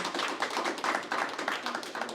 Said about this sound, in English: let's give Sarah a wonderful round of applause